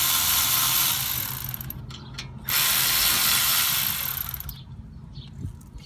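A hand ratchet clicks rapidly while loosening the top brake caliper bolt on a 2015 Ford F-150's front brakes, in two close bursts with a short pause between them, then tapering off.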